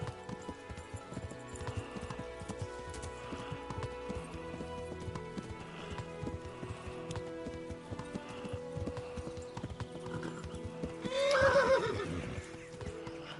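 A horse in the video game Kingdom Come: Deliverance gallops with rapid clip-clop hoofbeats under a game music bed, then lets out a loud whinny near the end.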